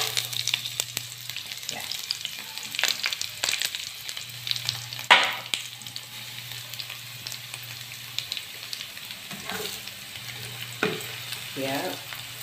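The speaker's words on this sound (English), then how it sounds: "I'm gonna fry it like this first" Dried fish frying in oil in a pan for a Filipino tomato dish, a soft, continuous crackle and sizzle with occasional pops and light scraping, fairly quiet throughout.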